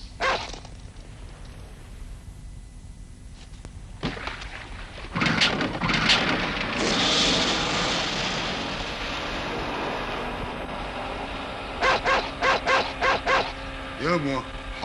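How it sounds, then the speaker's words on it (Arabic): A dog gives a quick run of short, loud barks near the end, after a stretch of rumbling background noise and other sounds. "لا شك أنت كلب ذكي"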